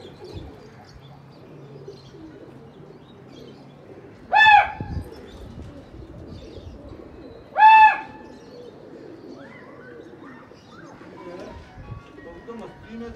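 Two loud, short pigeon calls ring out a few seconds apart over a quiet background of people talking at a desi pigeon contest.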